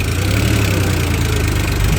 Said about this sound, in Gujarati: આપણે અત્યારે ન્યૂ હોલેન્ડ આંકીએ છીએ અને ખાલી ટ્રેક્ટર ત્રીજા ચોથામાં હાલે છે